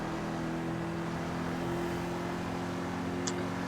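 Albany V-STR Custom car from GTA 5 Online, modeled on a Cadillac V-Series, holding a steady raspy engine drone at speed, loud and continuous with a buzzing tone throughout.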